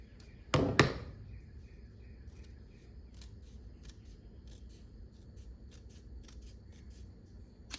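A kydex knife sheath is trimmed along the spine, with two loud close cuts near the start followed by a run of fainter, irregular snipping clicks.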